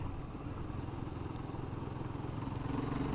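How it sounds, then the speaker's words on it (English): Royal Enfield Guerrilla 450 motorcycle engine labouring in fourth gear at about 30 mph just under 3,000 revs, a close, continuous low rattling thrum with rapid pulsing clatter throughout. "open up, it rattles and bangs, it doesn't like it, it won't have it"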